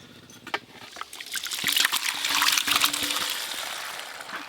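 Water is drained and shaken off freshly caught koi fish, a close trickling and splashing pour that swells for a couple of seconds and then fades, with faint rustling around it.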